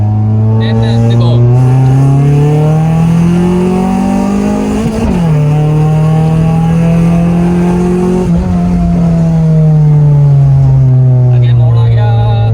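A car pulls away hard under heavy acceleration, its engine rising in pitch through the gears with loud, close revving and a shift midway, while people talk over it.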